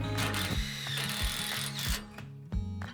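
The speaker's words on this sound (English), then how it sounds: "Using the 45 millimetre Tech screws, we can put them in place. So first of all, I'll screw off the end," A power driver sets 45 mm tech screws into a greenhouse hoop, whirring in repeated short bursts with ratcheting clatter, close and fairly loud.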